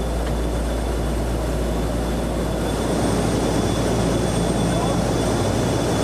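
Cabin of a military transport airplane carrying paratroopers during a 2004 jump over Kosovo, filled with a loud, unbroken engine drone and steady broadband roar, with a faint high whine running throughout.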